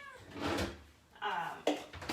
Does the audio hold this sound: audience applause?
no